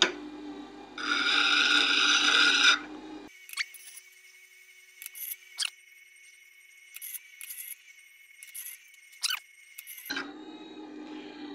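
A round wood chisel is ground on a sharpening machine, producing a loud, steady grinding whir for a couple of seconds. It is followed by a quieter stretch of scattered clicks and light scraping before the machine hum returns at the end.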